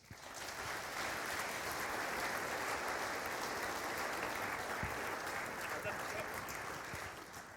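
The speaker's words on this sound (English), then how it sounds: "And if we could have a round of applause, please." Sustained, steady applause from an audience at a Police Scotland and emergency services motorcycle road safety roadshow Q&A, a dense wash of many hands clapping evenly throughout, fairly distant and without a break.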